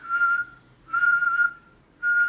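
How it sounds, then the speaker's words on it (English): A person whistles a single steady tone close to the microphone, three short notes separated by brief pauses, with breathy air noise around each note. "you'll know that you're whistling because it'll feel different from blowing"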